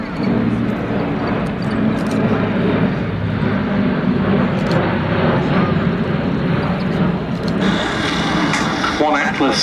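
An Atlas military transport aircraft turns in front of the crowd at an air show and heads back toward the airfield, a broad, steady engine roar that holds at high level throughout.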